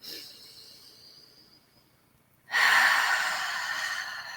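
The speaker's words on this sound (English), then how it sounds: "breathe deeply in through your nose and exhale through the mouth" A person breathing deeply, a soft, quiet inhalation fading out, then a sudden louder, breathy exhale through the mouth that trails off gradually.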